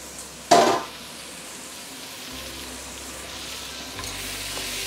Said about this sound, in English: I've been simmering under medium high, slightly above medium high for the past 2 minutes plus